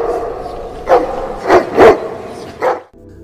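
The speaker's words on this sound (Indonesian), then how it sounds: "mendengar gonggongan anjing yang cukup mengganggu jalannya ibadah" A dog barks during a church service: four sharp barks, moderately close, over a low murmur of background room sound.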